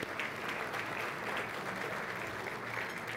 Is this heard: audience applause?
yes